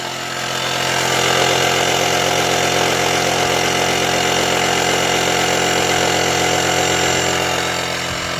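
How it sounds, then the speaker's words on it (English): An electric pump inflating a budget dinghy, droning loudly and steadily at close range with a constant motor hum and no breaks, as its high-pressure stage takes over. "It pumps up fast, and then once it gets pressure it goes on to the high pressure pump."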